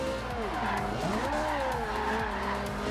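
Tires squealing in wavering, sliding pitches as a Ferrari 458 Italia, converted to all-wheel drive, drifts in Forza Horizon 2, over a steady, loud engine drone throughout.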